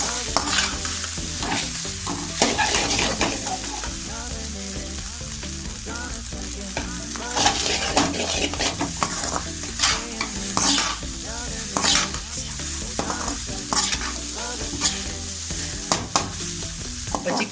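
Chicken fried rice is stir-fried in a pan, with continuous sizzling and repeated scraping stirs that come in uneven bursts, close and fairly loud, with no talking.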